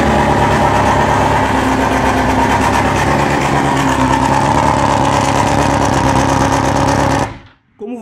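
A loud BMW S1000 sport motorcycle engine starts and runs close by with a rough, buzzy exhaust note, holding steady for several seconds before cutting off abruptly.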